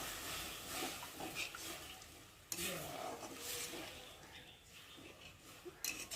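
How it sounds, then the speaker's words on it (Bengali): Momo chutney being stirred in a pan, with a low sizzle under uneven scraping and stirring strokes and a sharp clink partway through, quiet and close. "একটু করে ভালো করে নেড়ে দেবো।"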